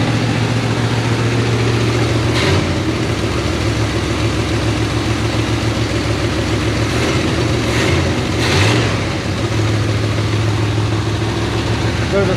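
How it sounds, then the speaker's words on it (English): A 1975 K10 truck engine idles high, a steady loud drone held throughout with a couple of brief dips near the middle, close up. "She's idling really high"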